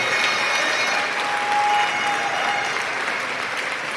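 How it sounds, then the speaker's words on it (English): An audience at a gun-safety fundraising gala applauds a donor's pledge, with steady, fairly close clapping and a little cheering throughout the few seconds and no speech over it. "Can we give them a round of applause?"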